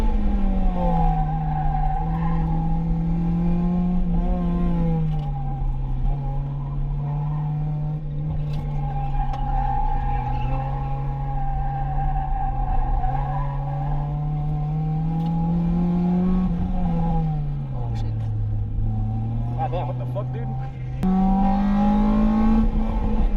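An Acura RSX lapping a race track hard, its engine droning loudly from inside the car for the whole stretch, the pitch climbing and dropping through gear changes and braking zones.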